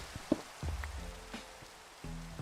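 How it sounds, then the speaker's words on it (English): Rain falls in the Skyblock SMP Minecraft game, a soft, steady patter under a low hum, with a few scattered taps and thuds and no talking. "Oh, we have rain. We have rain."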